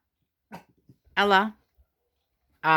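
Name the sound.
dogs whimpering and barking at people walking past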